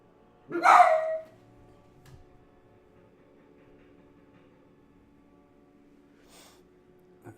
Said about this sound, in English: That's my dog losing its crap again.